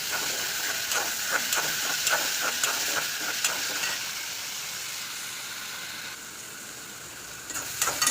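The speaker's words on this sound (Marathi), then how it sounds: "आता थोडंसं परतून घ्या।" Onion and green chillies sautéing in a kadhai for a quick okra (bhindi) dish, a steady close sizzle with light stirring scrapes ticking through the first few seconds, settling into a softer hiss before brief clatter at the end.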